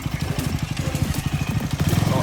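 A brand-new KTM Duke 250 motorcycle engine runs with a rapid, throbbing pulse, loud and close throughout, rising slightly toward the end as if being revved.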